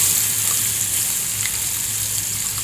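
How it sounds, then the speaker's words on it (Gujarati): Steady loud sizzling of crushed chilies, tomatoes and garlic dropped into hot oil with a pinch of asafoetida, a continuous close frying hiss with no pauses. "હવે જે આપણે આ ક્રશ કરીને રાખેલું છે મરચાં ટામેટાં લસણ એ નાખવાનું છે"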